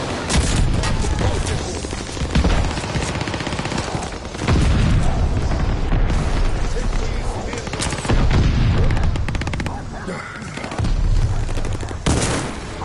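Rapid gunfire bursts from Call of Duty Vanguard multiplayer, loud and dense, with repeated volleys and booms rolling through most of the stretch while players talk over it.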